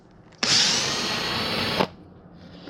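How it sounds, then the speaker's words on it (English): A power drill fitted with a slightly larger bit bores into wood for a turned mushroom birdhouse ornament, a loud steady whine lasting about a second and a half that starts abruptly and cuts off cleanly, with no talking. "This drill bit's a tad bigger, so let's see."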